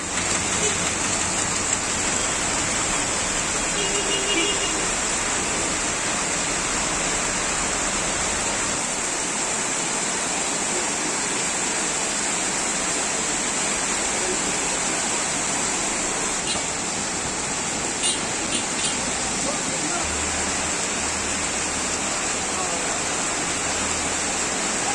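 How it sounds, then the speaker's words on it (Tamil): Heavy rainwater rushing along a road in Palani, Tamil Nadu, during a downpour, a steady broad wash of flowing water that holds throughout with a faint voice in the background. "பழனியில் சாலையில் மழைநீர் பெருக்கெடுத்து ஓடியது"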